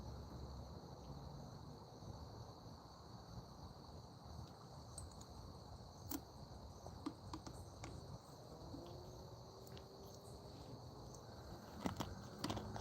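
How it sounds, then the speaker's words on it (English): Crickets chirp in a steady high-pitched drone outdoors, quiet and continuous, with a few faint clicks and rustles scattered through. "they really liked that they could hear the crickets and the bugs"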